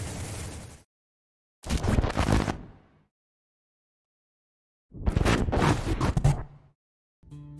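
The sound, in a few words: grenade explosion in War After mobile video game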